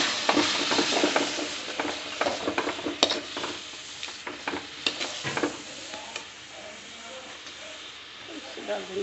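Spices (salt, turmeric, chilli, coriander) frying in a pan for fried potato and cauliflower sabji: a constant close sizzle with scattered stirring scrapes and clinks, a voice talking faintly underneath.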